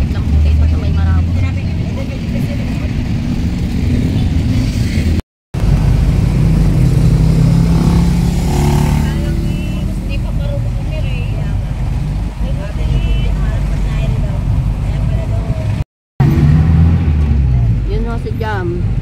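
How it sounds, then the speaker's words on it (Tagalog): Cars and motorcycles in road traffic near Marabo make a continuous loud rumble of engines and tires, with revving and passing vehicles, and people talk over it throughout. "medyo traffic lang po dito sa may Marabo"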